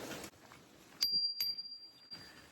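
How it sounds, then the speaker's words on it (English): A bicycle bell rung by a rider on a country road near horses, with a couple of bright, sharp dings and a lingering ring standing out against faint outdoor background. "And I was ringing the bell"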